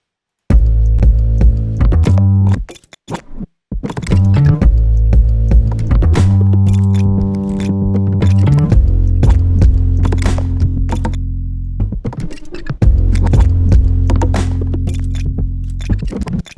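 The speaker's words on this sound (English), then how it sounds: "Let's hear bass and drums together." Bass guitar and drum kit playing together as the backbone of a rock song arrangement, loud and continuous with steady low-end notes and punchy hits, a brief drop-out near the start, no voices.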